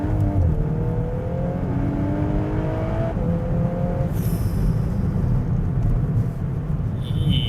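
A modified Audi S3 accelerates hard in second gear, its engine note rising steadily under a constant roar, followed by a brief higher hiss near the end.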